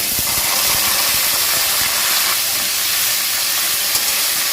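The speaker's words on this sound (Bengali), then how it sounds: "এবার আমি দিয়ে দেবো মোচা সেদ্ধ যেটা আমি আগের থেকে লবণ হলুদ দিয়ে সেদ্ধ করে রেখেছি" Boiled banana flower hits hot oil with spices, bursting into a loud, continuous roaring sizzle and steamy hiss that holds steady, close and unbroken, with no voices.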